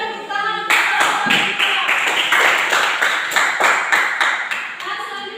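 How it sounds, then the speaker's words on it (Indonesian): Classroom applause for a student group presenting on air pollution in a vocational high school class, a dense patter of many hands clapping steadily at close range for about five seconds. "Kita beri tepuk tangan untuk kelompok"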